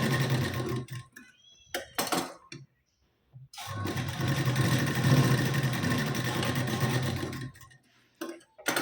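Sewing machine stitching tucks on a blouse with a half-inch seam margin, a loud, close, whirring run in short bursts early on, then one long steady stretch of stitching after a pause.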